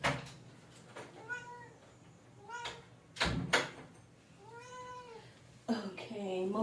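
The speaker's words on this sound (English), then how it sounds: "Oh, my cat is calling me, so she must enter." A house cat meows clearly and close by about four times, with drawn-out, rising-and-falling calls. A door thuds or slides partway through, and a person's voice is faintly present.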